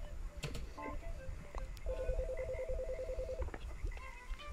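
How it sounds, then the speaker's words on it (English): A phone rings in the video game Chicory: A Colorful Tale. A warbling electronic ring pulses rapidly for about a second and a half amid soft game ambience, with brief chime-like blips before and after. "Looks like a phone call."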